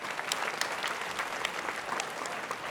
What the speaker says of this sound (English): I hope that you could all give them a round of applause and say thank you.